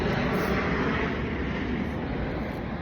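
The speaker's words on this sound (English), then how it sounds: "Excuse the plane in the background." An airplane flies overhead with a loud, steady broadband roar that fills the whole stretch, fading only slightly toward the end with no talk over it.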